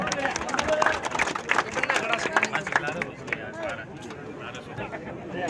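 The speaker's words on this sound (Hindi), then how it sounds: "मैं उन तमाम जनप्रतिनिधि डालकर हमारे इस कार्यक्रम में पधारे, तो उन सभी के लिए एक बार जोरदार तालियां" Applause for invited guests at a cricket tournament ceremony on an open ground in Bikaner, a burst of scattered clapping from the crowd amid chatter and speech, tapering off toward the end.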